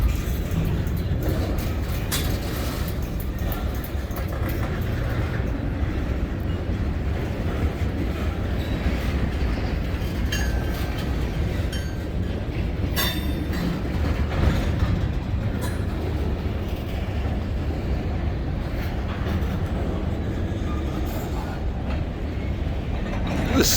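A long Canadian National freight train rolls northbound past in Green Bay, a steady loud rumble of rail cars with clattering wheels and occasional faint squeals throughout, near and continuous.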